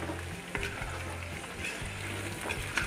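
Andhra dry chicken with spice powder and coriander stirred in a hot pan, a steady close sizzle with soft scraping and stirring knocks throughout.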